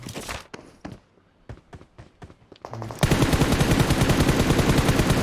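Battle royale gunfire in a video game: scattered single shots and footsteps at first, then a loud sustained burst of rapid automatic fire that keeps hammering without pause.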